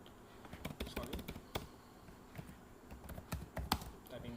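Someone types on a computer keyboard in short, irregular bursts of light key taps at moderate loudness with some low background noise.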